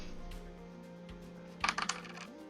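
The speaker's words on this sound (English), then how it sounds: "Party, dice initiative." Dice rolled for initiative in a tabletop role-playing fight: a short burst of clattering hits lands midway over a quiet background hum and settles within half a second.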